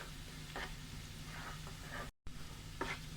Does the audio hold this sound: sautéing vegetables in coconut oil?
yes